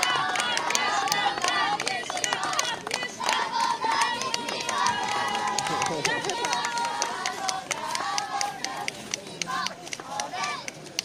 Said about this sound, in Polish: Dużo brawa, oczywiście.